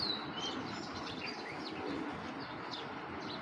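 Pigeons, including an Irani Huma female, coo softly with scattered chirps over a quiet, steady background hum, fairly faint and continuous for a few seconds.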